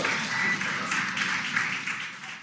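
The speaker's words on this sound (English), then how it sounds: "You can hear the crowd here." A crowd applauding and cheering at the Crew-9 capsule splashdown as its parachutes deploy, a steady wash of clapping and voices that continues without breaks and eases slightly toward the end.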